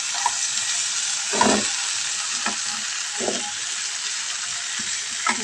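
Sliced okra (bhindi) with a little turmeric sizzles steadily in hot oil, with several soft scraping stirs of a spatula breaking through the constant frying hiss.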